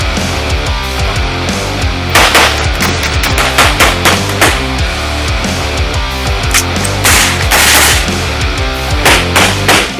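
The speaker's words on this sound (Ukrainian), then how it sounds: "прогріємо ствол магазином на 30 набоїв темпово" Rapid, loud gunfire from a rifle with a steel mini-brake, emptying a 30-round magazine in quick bursts of closely spaced shots, continuous strings of cracks over ten seconds, no voices.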